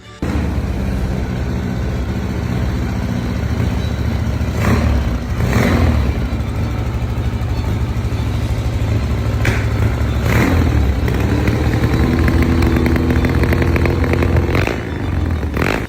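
A custom motorcycle built from a 1965 Triumph TR6 runs with a steady, loud engine drone throughout, swelling in several revving bursts with some mechanical clatter, close to the microphone and with no talking.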